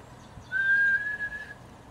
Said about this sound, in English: I can't ever whistle when I'm smiling.